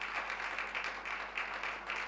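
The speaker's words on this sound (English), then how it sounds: "I can only assume that that applause was for the close of that match" Steady applause from a crowd at the close of a match at the Predator European Championship pool tournament, an even wash of clapping running throughout without talk.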